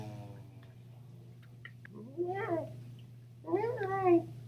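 A cat gives two drawn-out meows, the second louder and longer, close by over a steady low electrical hum with faint ticking earlier on.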